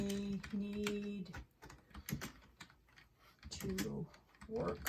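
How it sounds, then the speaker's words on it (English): Quick bursts of typing on a corded computer keyboard, clattering key clicks in short runs separated by pauses, close by, with a low hum and some tonal sound underneath. "this is my corded keyboard and it's working right now. I'm going to type in"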